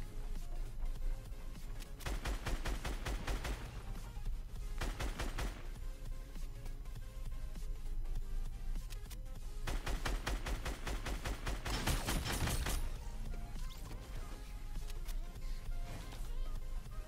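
Enemy gunfire in the mobile battle-royale game Fortnite Mobile: sustained bursts of rapid shots come in waves, loudest around the middle and later stretches, over a constant background of game sound.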